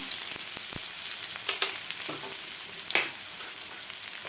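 Cumin, mustard seeds and finely chopped onion fry in hot oil with a steady, close sizzle. Occasional stirring scrapes and taps cut through the crackle.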